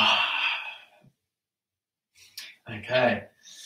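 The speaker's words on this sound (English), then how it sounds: "we'll just finish with like a nice yawn" A long, breathy yawn during a shiatsu session, sighing out and fading, followed by a pause and then a voiced, drawn-out exhalation nearby.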